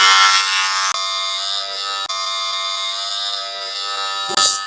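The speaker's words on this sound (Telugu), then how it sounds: "ట్రిమ్మర్, ఇలాంటి ట్రిమ్మర్ పెట్టుకున్నావు" An electric hair trimmer buzzes loudly and close during a home haircut. Its steady, bright motor whine drops briefly a couple of times and shifts near the end as the blade moves against hair.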